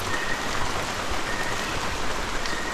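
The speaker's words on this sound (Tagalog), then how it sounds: "biglang lumakas yung ulan" Heavy rain pours down in a dense, unbroken roar, steady and loud from start to finish with no voices.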